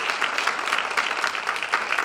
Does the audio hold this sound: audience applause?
yes